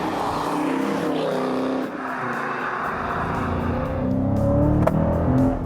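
A 2019 Dodge Challenger Widebody's engine revs hard and rises in pitch as its tires break loose, a loud, continuous roar that swells toward the end.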